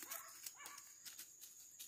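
A hunting dog on an armadillo hunt barks: several faint, distant yips and barks spread over a couple of seconds in an outdoor setting.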